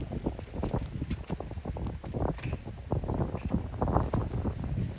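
Gusty wind buffeting a microphone in a vegetable garden, a loud, rough rumble that keeps rising and falling without a break.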